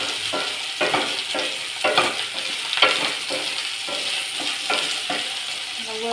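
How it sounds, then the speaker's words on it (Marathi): Sliced okra frying in a pan over lowered gas, stirred with a steady hiss of sizzling and repeated scraping strokes of the spoon roughly every second, close and alone. "वर खाली करून घेऊया."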